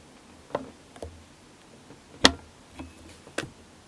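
A cork pulled from a mead bottle gives one sharp, close pop, with a few softer clicks and taps of bottle handling before and after in a quiet room.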